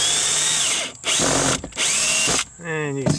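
Power drill backing screws out of a rotted, water-soaked plywood strip in an A-frame cabin leak repair: three loud whirring bursts separated by short pauses, the last ending in a rising ratchety whine, close to the mic.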